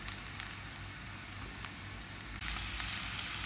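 Onion, chilli, ginger and garlic fry in a pan for tomato rice, making a steady hiss with faint crackles that grows louder and brighter partway through as more goes into the pan.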